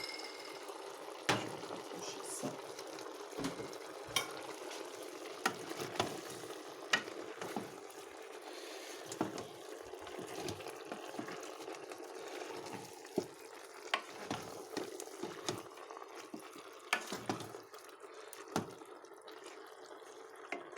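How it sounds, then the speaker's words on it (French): Beef pieces for boeuf bourguignon browning in a hot pan, a steady close sizzle with scattered crackles and sharp pops, plus occasional scraping and stirring, with no voices. "Alors une fois que la viande elle est dorée, on va essayer de dorer sur toutes les faces."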